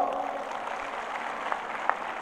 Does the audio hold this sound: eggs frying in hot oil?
no